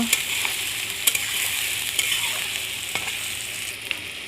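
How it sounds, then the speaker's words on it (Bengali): Chopped onions and whole green chilies frying in oil, a constant close sizzle punctuated by several sharp spatula scrapes and taps against the pan at irregular intervals, without talking. "এগুলো নেড়ে চেড়ে ভালোভাবে মিশিয়ে নেব।"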